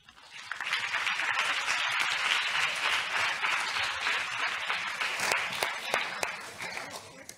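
Audience applause in a mock trial courtroom, with a full, sustained round of clapping from the gallery that rises quickly, stays level, and trails off with a few sharper individual claps at the end.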